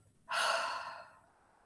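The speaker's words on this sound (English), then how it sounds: "Breathing in through your nose and out through your mouth." A single slow, audible exhale through the mouth follows a quiet in-breath through the nose during a calm mindfulness breathing exercise, soft, close and alone, fading gradually.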